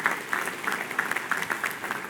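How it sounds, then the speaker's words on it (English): Guests at a college event clap together in a brisk, continuous round of applause, many hands close and distinct with a few sharper individual claps standing out. "So let's give these good folks a nice round of applause."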